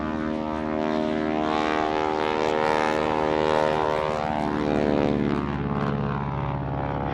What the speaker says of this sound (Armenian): 7:55-ին երկնքում հայտնվում են ինքնաթիռներ։